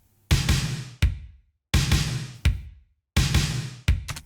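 U-Jam Vice rhythmic percussion in a pattern of sharp, loud noisy hits, paired strikes repeating three times with short decays and gaps of silence between, close and alone.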